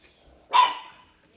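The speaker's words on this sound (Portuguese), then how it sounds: "Tá latindo, gente." One sharp, loud bark from a dog, close by, fading quickly into near silence.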